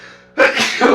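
A quick inhale gives way to one sharp, loud sneeze that trails off in a breathy rush, close up and alone.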